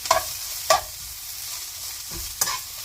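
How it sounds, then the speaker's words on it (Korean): Anchovies being stir-fried for a Korean shishito pepper and anchovy side dish, dry and crackling in a hot pan, with a few sharp scraping stirs spaced out over a low, steady sizzle. "이제 멸치를 볶는다는 그 비린내를 날린다는 개념으로 볶아줍니다"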